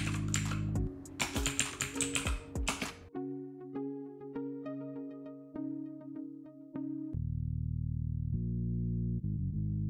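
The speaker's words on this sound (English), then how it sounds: "press Windows R and type regedit" Computer keyboard keys tapped in a quick, uneven run, close and clear, with no voices present.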